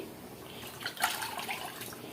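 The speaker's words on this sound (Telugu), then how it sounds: "కొంచెం మన దీంట్లో వాటర్ వేసుకొని కొంచెం కలిపేసేసుకుందామండి" Water poured into yogurt for buttermilk curry gives a brief, soft splash and trickle at close range, peaking about midway through a quiet two-second stretch.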